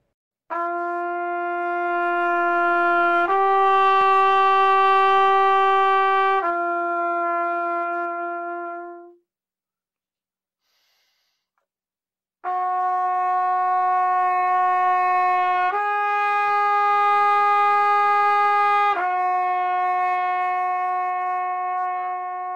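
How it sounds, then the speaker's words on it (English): A brass instrument plays slurred notes stepping up and back down, each phrase swelling louder then fading, repeated twice with a pause between. "Exercise number 3 is a whole step slur pattern with crescendos and decrescendos."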